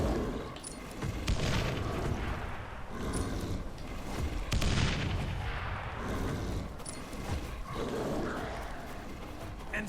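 Grenade explosions and gunfire in the zombie video game Dead Island, a series of dull booms and crackling blasts spread through ten seconds of dense, chaotic combat noise.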